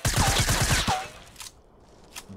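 Rapid burst of gunfire in the Fortnite battle royale game, sharp repeated shots packed into the first second, then only faint scattered clicks and a quiet game background.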